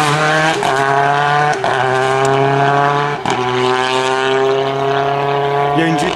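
A GT rally car screams past on a rally stage in the Savoie region. The loud, high-revving engine is heard close by, with sharp gear shifts cutting the note every second or so, and voices in the background.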